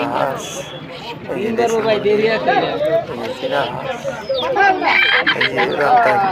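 Desi chickens cluck and squawk at a busy poultry market, with the calls rising over close, ongoing talk and general crowd chatter.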